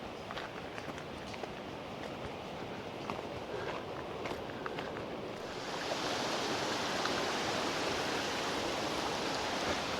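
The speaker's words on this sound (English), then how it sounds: "Here's our rushing water" A mountain stream rushes down into Gosausee lake in the Austrian Alps, a steady broadband roar that swells louder and fuller midway as the water gets closer, with faint footsteps early on.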